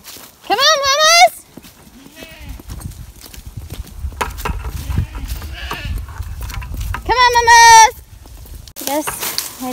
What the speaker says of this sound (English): This group is about 50, 60 goats.